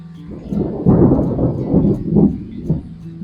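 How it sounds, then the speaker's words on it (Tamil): Deep rolling thunder rumbles loudly and continuously, swelling in several waves with no speech. "திரும்ப இடி இடிக்க போச்சு மின்னல் வெடிச்சு"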